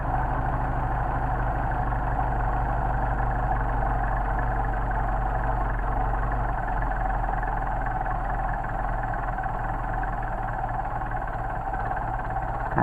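A Mercedes 190SL engine running on cold Solex carburetors with the choke being eased off, a steady low idle rumble holding even and close throughout, no voices.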